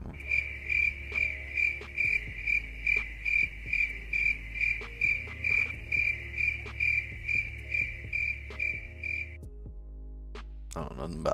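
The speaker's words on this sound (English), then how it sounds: "Just crickets." Crickets chirp in a fast, even pulse of bright trills under a low steady hum, close and clear for about nine seconds before stopping abruptly, followed by a brief clatter.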